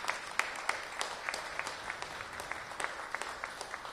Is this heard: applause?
yes